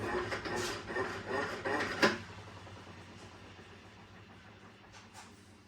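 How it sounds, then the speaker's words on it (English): An O-Cedar spin mop wrings out in its bucket: a mechanical whirring and rattling spin for about two seconds, then a fading, lower rumble as it slows. "It doesn't seem to wring out really as balanced as the old one did."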